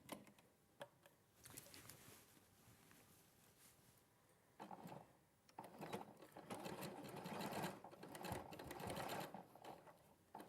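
Sewing machine runs in short and longer bursts stitching a fabric loop along a 1 cm seam, a close, quiet rapid whir with small clicks and pauses between runs.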